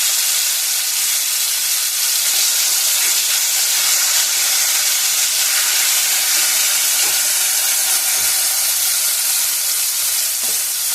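Mustard paste frying in a hot pan, a loud, continuous crackling sizzle with a bright hiss that stays steady and close from start to finish, with no talking over it.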